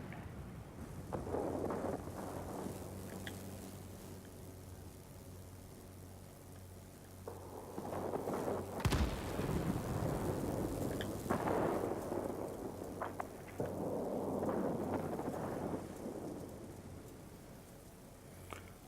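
Thunderstorm in the World of Warplanes game, with rolling rain noise throughout and several loud thunder crashes, one sharp crack near the middle followed by long rumbling swells.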